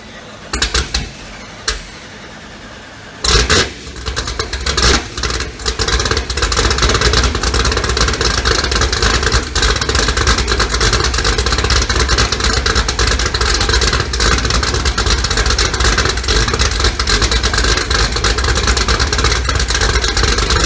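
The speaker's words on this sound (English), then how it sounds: "we're going to get this car running. We're going to hear it run." A 2018 Hot Wheels Camaro with an LME 416 stroker and D-1x Procharger cranks over and fires on its first start, then settles into a loud, steady, rumbling idle that runs on without pause.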